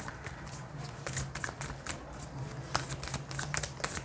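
Tarot cards are shuffled close by in quick, irregular riffling taps and flutters, soft and steady with no speech.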